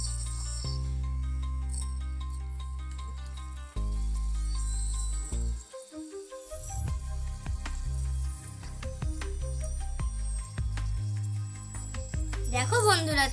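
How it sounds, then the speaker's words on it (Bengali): Paratha frying in oil in a pan, a steady sizzle running throughout under background music, with a brief interruption midway as the bread is flipped. "দেখো বন্ধুরা কত সুন্দর ভাজা হচ্ছে রুটিটা।"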